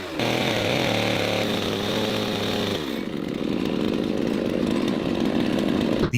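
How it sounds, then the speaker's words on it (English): A chainsaw cuts the edges of wood to frame a window in a wall of a hand-built wooden house, the engine droning loudly and close, then bogging into a rougher, grinding tone as the blade bites. "edges of the wood are being cut to build the window frame in the wall."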